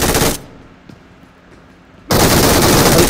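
Shotgun blasts in the mobile game BGMI, a loud burst at the start and another after a quiet gap of about two seconds, with faint clicks between them.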